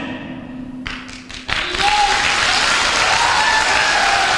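An audience breaks into loud, sustained clapping after a quiet moment with a few thumps and a voice, the applause swelling suddenly and holding steady to the end.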